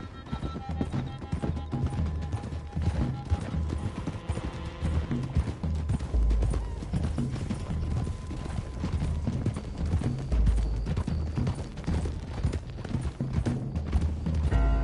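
Horses' hooves clip-clop steadily on a trail in the video game Red Dead Redemption 2, a dense continuous rhythm of several animals riding together, with occasional creaks and a brief whinny.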